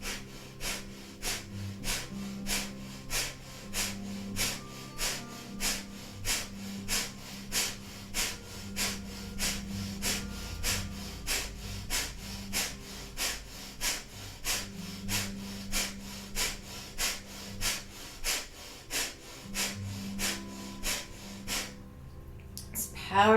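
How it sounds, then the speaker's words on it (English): Rapid rhythmic nasal panting breathing exercise, breath of fire, with sharp, regular pumping breaths through the nose repeated steadily over a soft musical drone, close and continuous. "we'll begin breath of fire here, panting like a dog through the nose"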